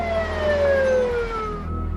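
An ambulance siren sound effect: a loud, close wail sliding steadily downward in pitch over an engine rumble, tailing off near the end.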